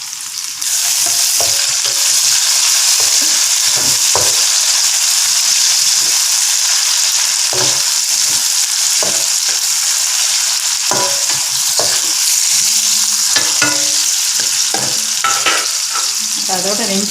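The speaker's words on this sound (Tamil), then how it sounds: "வெங்காயங்கள் செவந்துருச்சு. இப்போ தக்காளி பழத்தை போடுறேன்." Onions and tomatoes fry loudly in a pan for mutton perattal, a dense, steady hiss of sizzling close up, broken by frequent scraping stirs of a spoon.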